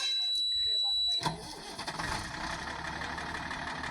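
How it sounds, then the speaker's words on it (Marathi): A sugarcane truck's engine is started by the driver: after a short quiet stretch, the starter catches at once and settles into a loud, steady mid-pitched idle with a faint squeal on top. "तर आता ड्रायव्हरनं गाडी चालू केली"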